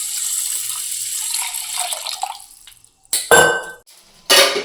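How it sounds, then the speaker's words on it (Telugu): Water poured into a vessel of washed, soaked rice being prepared for pulao, in short splashing bursts after a quieter stretch of kitchen clatter and faint dripping. "ఇప్పుడు దీంట్లోకి వాటర్ యాడ్ చేసుకుంటున్నాను."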